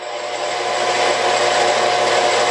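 A metal lathe turning while a cone, bullet, radius and ball cutting attachment takes a slow final cut, giving a loud steady whirring drone with a sustained high whine throughout.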